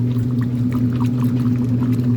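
Low steady hum of a running washing machine during the wash cycle with towels inside, with soft intermittent splashes and sloshing water on top, close and continuous.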